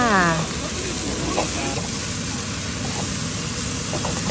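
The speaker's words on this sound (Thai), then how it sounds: "ใส่น้ำมันลงไปนะคะ แล้วก็ตามด้วย ต้นหอมญี่ปุ่นนะคะและหอมหัวใหญ่ค่ะ ผัดจนนิ่มเลยค่ะ" Japanese scallion and onion stir-fry in hot oil, giving a steady close sizzle that runs throughout, with a brief tonal sound at the very start and faint clinks from stirring.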